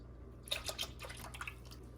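Half-and-half cream pours into a pot already holding whipping cream for homemade khoya, making a short, soft, quiet splashing trickle with no talking.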